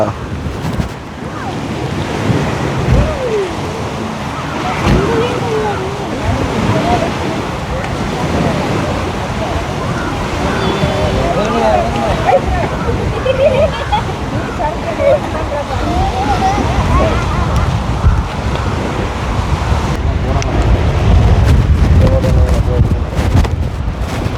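Sea waves at Chaatty beach wash in steadily under constant wind rumble, a dense continuous roar with people talking over it throughout.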